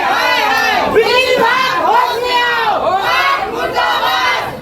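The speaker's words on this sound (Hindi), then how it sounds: "छत्तीसगढ़ में बिजली कटौती के विरोध में लोग प्रदर्शन कर रहे थे, नारेबाजी कर रहे थे" Crowd of protesters chanting slogans in unison against power cuts in Chhattisgarh, loud and close, rising and falling in repeated shouted phrases.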